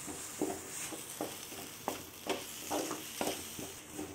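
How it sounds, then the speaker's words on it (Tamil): A spatula stirs muttai kothu parotta with salna in a hot pan, scraping and tapping in an uneven rhythm of soft strokes over a low, steady sizzle. "இது கொஞ்சம் நல்லா மொறுமொறுன்னு வர வரைக்கும் நம்ம இதை கலந்துக்கிட்டே இருக்கலாம்."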